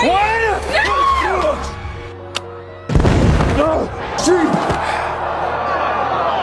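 A sudden booming blast cuts through loud crowd screaming and shouting, followed by a sustained noisy rumble.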